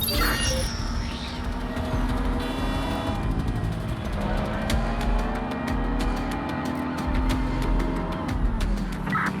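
Car chase in Watch Dogs: Legion, with a continuous loud engine roar and shifting revs, tire and traffic noise and repeated sharp clicks or impacts, faint voices underneath.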